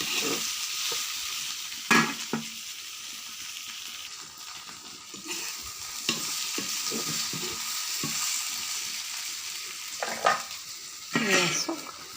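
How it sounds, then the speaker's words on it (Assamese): Lentils fry with chopped tomato in a pan, a steady close sizzle broken by clattering bursts of stirring, with no talking. "আৰু অকণমান ভাজি লওঁ।"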